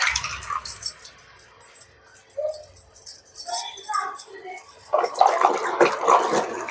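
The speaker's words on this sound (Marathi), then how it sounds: "आपल्याला ही सगळी हळद धुवून घ्यायची" Fresh turmeric roots are rubbed and washed in a bowl of water, giving soft splashes and wet squishing, close by and followed by a burst of louder sloshing, with a voice talking over parts of it.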